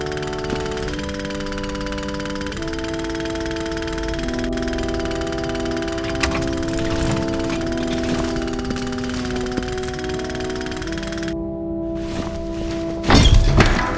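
Rapid jackhammer pounding runs steadily outside in the 2008 point-and-click game Memento Mori, a dense continuous rattle under layered music tones, ending in a louder burst of thumps.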